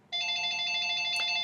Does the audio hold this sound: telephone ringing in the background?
yes